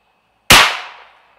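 A single sharp, loud crack from a .22 WMR rifle firing a V-MAX round, rising abruptly out of near silence and decaying over about half a second.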